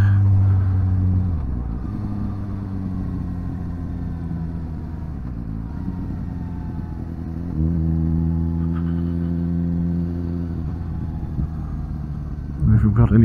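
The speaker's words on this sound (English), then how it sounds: "Listen, that exhaust. Man, that exhaust, like, it's beautiful." A Suzuki GSX-S750 AL9 motorcycle with an aftermarket Vulcan exhaust idles close by with a deep, steady rumble, dipping briefly and swelling as the revs rise mid-way and again at the end.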